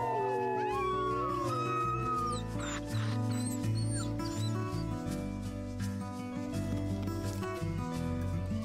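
Wolves howling in a Nintendogs-style wolf-raising video game, rising and falling tonal howls layered over a steady, loud game music bed with no talking.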